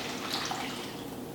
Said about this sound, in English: We're gonna grab our chicken, and then we're just gonna pour it on top